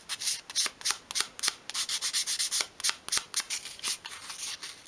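Fine sandpaper rubs a small bevel along the edges of a 1/12-scale miniature storage unit piece, a quick series of close, dry scratchy strokes in an uneven rhythm, with no voices.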